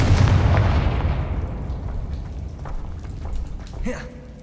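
A Confringo blast spell exploding in the game Hogwarts Legacy, a loud booming burst that decays into a rumbling, crackling tail, with a brief whoosh near the end.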